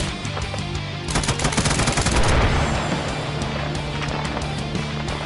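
Rapid bursts of gunfire from a GTA roleplay game, dense, loud and continuous bursts filling several seconds before settling into a steadier background din.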